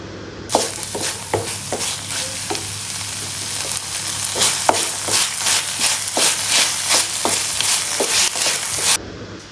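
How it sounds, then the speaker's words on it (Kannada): A chilli sauce mixture for egg fried rice fries on a medium flame, giving a steady close sizzle broken by frequent scraping stirs of a spatula against the pan, with no talking. "ಸೊ ಇದನ್ನು ಮೀಡಿಯಮ್ ಫ್ಲೇಮಲ್ಲಿಟ್ಟು ಚೆನ್ನಾಗಿ ಫ್ರೈ ಮಾಡ್ಕೊಳ್ಳಿ."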